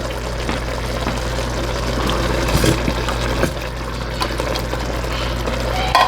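Two cans of thick golden mushroom soup pouring into a pot of beef filet tip stew, a steady close liquid glugging and plopping for several seconds over a low background hum.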